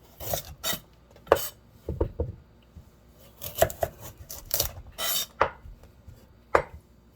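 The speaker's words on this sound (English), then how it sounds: "we're just gonna cut all 4 sides" A kitchen knife cutting all four sides off a standing carrot to square it into a box, a series of close, crisp slicing cuts and board taps in irregular bursts with quiet gaps between.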